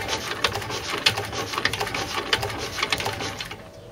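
An old J.A.P Model 3 engine with a worn spark plug is spun over by hand, producing a rapid, steady train of close mechanical clicks and ticks that stop abruptly at the end.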